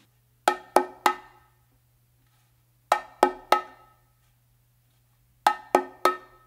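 An open-tone coordination pattern on bongos alternates hembra and macho. Three crisp, ringing hand strikes are played, then a pause, and the group of three repeats twice more, close and solo over a faint low hum.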